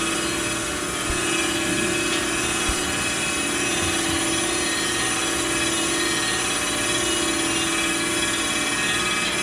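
A crankshaft grinding machine drones steadily while grinding a crank, holding an even, loud whine with a constant tonal hum and no breaks.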